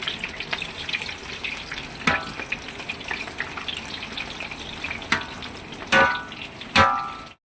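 Onion murukulu frying in hot oil at home, a steady crackling sizzle with occasional stirring clatters and a few louder sharp sputters near the end.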